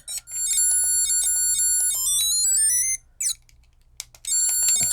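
Shrill electronic beeps and descending tone sweeps from a Q*bert Super Impulse micro arcade handheld game, loud and close, with a short pause before the bleeping resumes.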